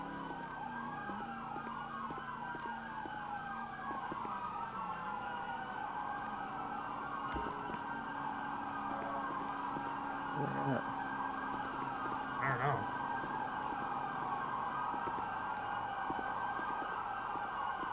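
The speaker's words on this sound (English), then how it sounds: "Oh, there's so many sirens." Several wailing emergency vehicle sirens overlap in a video game city street, rising and falling continuously at moderate distance, with brief bumps and clatter mixed in.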